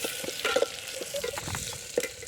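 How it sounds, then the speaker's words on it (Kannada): Chopped onion frying in a pan at an outdoor farm-field cooking spot, a close, moderate sizzle broken by a few stirring scrapes and knocks, with no talk. "ಈಗ ಹಚ್ಕೊಂಡಿರೋ ಅಂತಹ ಈರುಳ್ಳಿ ಹಾಕ್ಕೊಂಡಿದ್ದೀವಿ ಹಚ್ಚಿರುವಂಥ ಈರುಳ್ಳಿ"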